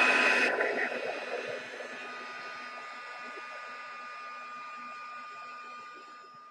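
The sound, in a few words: drying a mixed media envelope with a dryer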